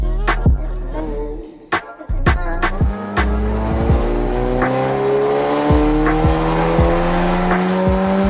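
A loud car engine revs hard, rising in pitch through the gears with sharp pops and tire noise, close and dominant throughout.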